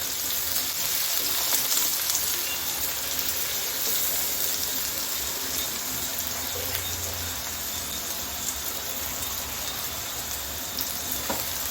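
Onion frying in oil after a cumin tempering, as part of an okra and potato dish, giving an even, continuous crackling sizzle close at hand, steady throughout with no talk.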